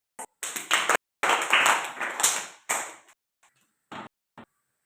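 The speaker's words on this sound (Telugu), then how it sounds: "క్లాప్స్." Classroom clapping in a primary school lesson, several bursts of hand claps at close range: a short tap, a longer round lasting about two seconds, then a few scattered single claps trailing off.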